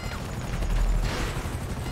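Rapid gunfire from a helicopter battle over patrol boats in GTA V Online, dense bursts mixed with game noise and engine rumble throughout, loud and continuous.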